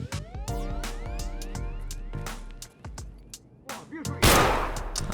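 SKS rifle fire in Escape from Tarkov, several sharp loud gunshots spread across the stretch over a steady low hum, ending in a louder, noisier burst.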